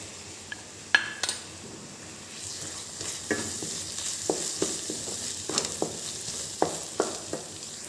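A masala paste of tomato, green chilli, ginger and garlic fries in a pan, giving a soft, steady sizzle punctuated by sharp clinks and scrapes of a spoon against metal, with no voices.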